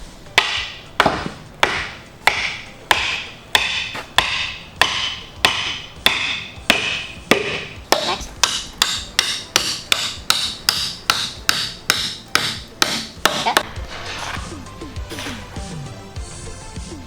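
Soap-lubricated oak dowels hammered into a timber-frame mortise and tenon joint: a long run of sharp, evenly spaced wooden whacks, about one per second and then quickening, close and loud with a brief pause near the end.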